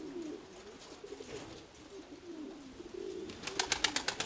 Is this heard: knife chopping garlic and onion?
no